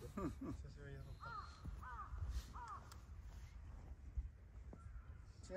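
Wild crows caw repeatedly at a Japanese golf course, several harsh calls in a loose sequence at moderate distance, with people talking quietly nearby.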